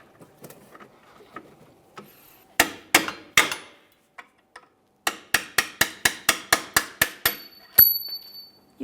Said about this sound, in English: Use a hammer and punch if necessary.